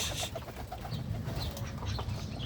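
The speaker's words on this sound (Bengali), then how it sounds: "এ হচ্ছে আমার শখের কবুতর।" Pet pigeons coo and murmur close by in a continuous soft rumble, with occasional brighter chirps and rustles over steady background noise.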